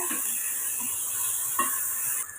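Beans, carrots and peas sauté in a pan for Tamil-style rava kitchadi, with a steady close sizzle, scraping stir strokes and one sharper clink of the spoon near the end, no voices.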